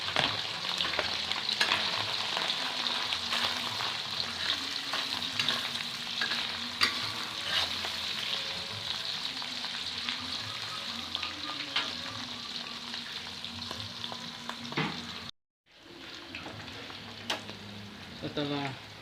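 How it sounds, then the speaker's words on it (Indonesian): Chicken pieces fry in hot oil, a close, busy crackle and sizzle with frequent utensil scrapes and stirring, a brief cut to silence near the end before the frying resumes. "setelah minyak panas, kita masukkan ayamnya."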